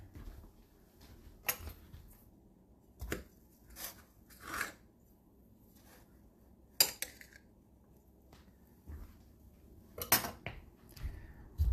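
A knife cuts down the center of food cooked in a Panasonic NN-SC67NS inverter microwave, giving scattered scraping, clinking strokes of blade and utensils against a plate, with quiet gaps between them.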